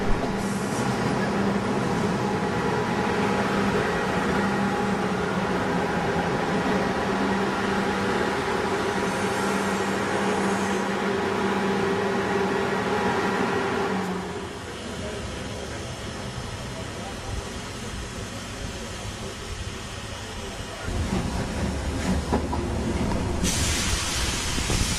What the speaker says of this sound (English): And then we're off once again with lots of steam and smoke and noise.